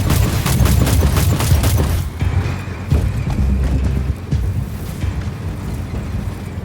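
Rapid gunfire from a player's weapon in a steampunk-themed shooter game, a dense burst of repeated loud shots for about two seconds, then continuing heavy booming battle noise without talk.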